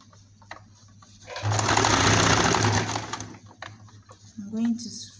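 A sewing machine stitches a ruffle onto a little girl's summer skirt in a steady, rapid whirring burst of about a second and a half, close by, with quiet talk before and after.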